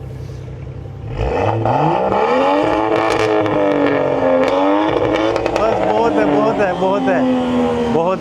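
A Land Rover Defender fitted with an RES racing exhaust starts up and revs repeatedly up close, its loud rising and falling roar sustained throughout, with a brief spoken word near the end.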